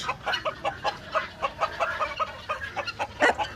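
Farm chickens, among them Sussex and Bresse hens and roosters, give rapid overlapping clucks close by in a steady busy stream.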